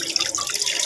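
Running water splashes and hisses steadily as food is rinsed in a first wash before cooking, a brief close-up rush of tap water into a sink with no voices.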